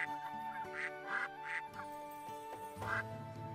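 Ducks in a video game giving a quick series of nasal quacks, about five distinct calls over a soft musical background, faint and close with no talking.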